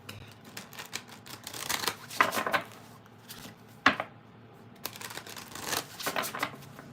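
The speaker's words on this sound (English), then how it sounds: "Last deck to shuffle, and then it is time for Taurus." A tarot card deck is shuffled by hand, giving soft riffling bursts and light slaps of cards that come close and fairly quiet in uneven clusters, with one sharper tap, no voices.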